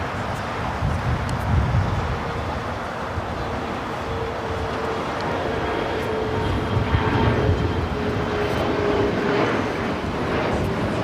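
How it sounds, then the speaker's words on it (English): A China Eastern Boeing 777-300ER airliner descends toward runway 25R at LAX, its broad, steady jet roar filling the scene at constant loudness with a faint whine above, no talk present. "China Eastern 777 300ER heading down to 25 right."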